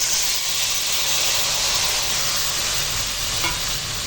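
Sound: mixed vegetables frying in hot oil with nigella seed tempering

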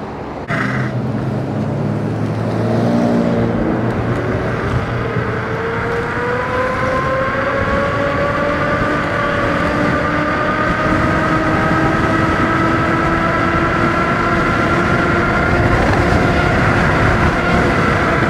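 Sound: Mantis King GT electric scooter riding at speed

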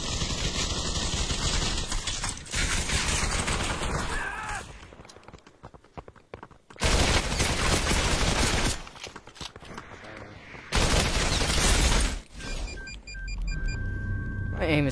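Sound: gold machine gun firing in VR video game Population: One

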